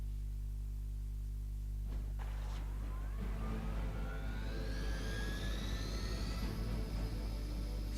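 A helicopter engine in a video game whines and rises in pitch over a steady low rumble, building into a sustained mechanical drone.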